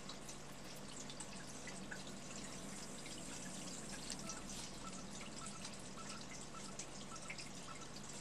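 Steady dripping and trickling water in the game The Legend of Zelda: Skyward Sword on Wii, a faint continuous wash with scattered drops.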